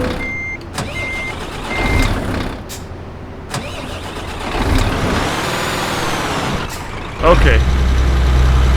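A Scania truck engine in Euro Truck Simulator 2 cranks and starts with a sudden loud low rumble near the end, settling into a steady idle, after someone talks over softer game sounds.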